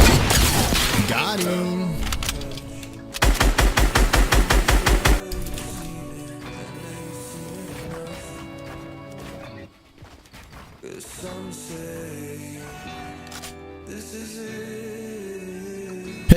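Rapid automatic gunfire in the video game Fortnite crackles in a dense burst, with other in-game shots and effects before and after and a player speaking briefly.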